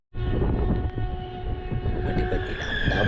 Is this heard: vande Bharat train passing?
yes